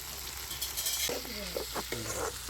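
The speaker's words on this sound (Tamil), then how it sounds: "தக்காளி வந்து பார்த்திங்கன்னா நல்லா வதங்கட்டும்" Tomatoes and onions sautéing in a pan for a village-style red bean gravy, a steady close sizzle with scraping stir strokes throughout.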